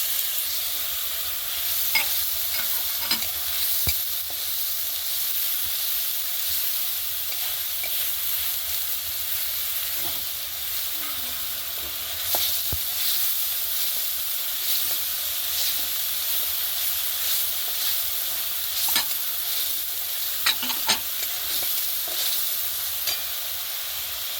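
Onion paste and spices sizzling in a pan for a Bengali egg dish, a steady bright frying hiss with occasional scrapes and taps of stirring throughout, close and continuous.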